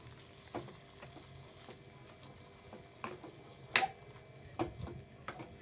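Ragi flour roasting in ghee in a pan, a low faint sizzle under irregular scraping stirs and a few sharp clinks of a spoon against metal, close and quiet.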